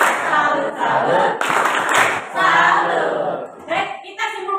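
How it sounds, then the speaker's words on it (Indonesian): Children in a classroom clap in rhythmic group cheers for a presenting team, with patterned bursts of claps mixed with chanting voices that stay loud and close throughout. "kita berikan tepuk tangan untuk kelompok 5"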